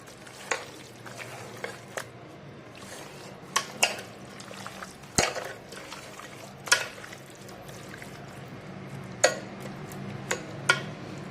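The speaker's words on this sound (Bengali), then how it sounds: "তো আমি এইগুলো সব মিক্স করে নিচ্ছি।" Wet squelching and occasional clinks as chicken biryani marinade is mixed by hand in a bowl, close and quiet, with irregular soft pats and spoon or bowl knocks spaced every second or so.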